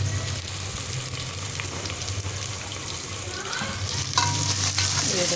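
Steady sizzling of spice paste frying in a pan with occasional stirring scrapes, continuous and fairly close, with a brief louder burst near the end.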